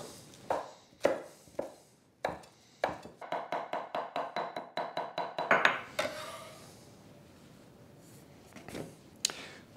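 Knife roughly chopping parsley leaves on a cutting board: several separate thumps, then a quick run of rhythmic chops, followed by quieter scraping and a few last taps, close and without talk.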